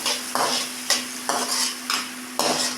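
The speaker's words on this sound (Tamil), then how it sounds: "இந்த வெங்காயம் தக்காளி எல்லாம் நல்லா வணங்கிருச்சுங்க" Large onions and tomatoes sauté in a pan for a village-style drumstick leaf gravy with ground coconut: a steady sizzle broken by regular scraping stirs about twice a second over a low constant hum, close and clear, no talking.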